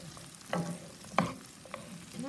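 Bay leaves stir-fried in a pan, a soft sizzle with a few scraping stirs of a utensil, close and fairly quiet, no talking.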